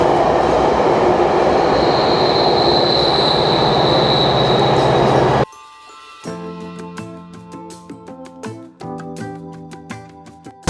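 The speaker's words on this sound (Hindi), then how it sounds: "ये देखो यहाँ पर ट्रेन चलनी स्टार्ट हो गई है" A GO commuter train moves off and runs past at close range, a steady loud rumble of wheels on rails, then gives way to quieter clattering and metallic clicks of the cars rolling by.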